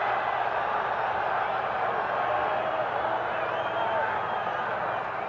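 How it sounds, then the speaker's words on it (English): Football stadium crowd at a 1980 college game in Georgia roars and yells for defense on a third down, a dense continuous wall of massed voices holding steady and loud throughout. "Yelling defense for Georgia."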